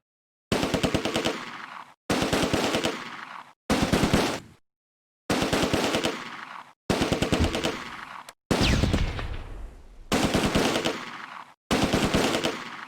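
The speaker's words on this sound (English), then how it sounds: "Oh damn, I just told the 88 to manually fire." Repeated bursts of German 88 gun and machine-gun fire in the Close Combat: A Bridge Too Far war game, loud rapid rattling volleys separated by short silences, with one heavier booming blast near the middle, no voices.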